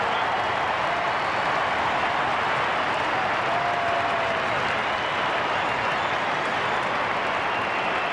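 Australian football crowd at an Essendon versus Sydney AFL match in 1999 roaring and applauding after a goal, a loud, continuous wall of cheering and clapping from a large stadium crowd.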